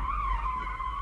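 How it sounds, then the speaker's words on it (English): A car's tires squeal in one continuous, loud, close skid as it slides through a handbrake drift turn, steady for the whole moment with engine rumble underneath. "learning how to use the handbrake according to the radius of the corner"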